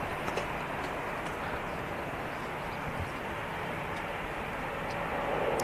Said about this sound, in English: There goes the TUI-8 Dreamliner.